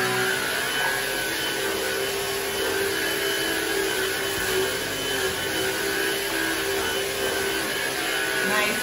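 Black & Decker Powerseries vacuum cleaner runs with a constant loud, high whirring drone and no pauses.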